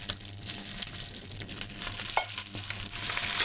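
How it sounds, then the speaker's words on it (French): Fennel, shallots and garlic sautéing in a very hot pan, a steady close sizzle with scraping stirs and small crackles, growing louder toward the end. "on va sauter notre garniture aromatique. Donc à savoir le fenouil, les échalotes, l'ail. On va faire revenir."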